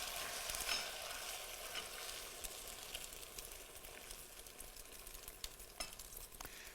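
Food sizzling and frying in a hot pan, a faint continuous crackle with small pops throughout, and no voices.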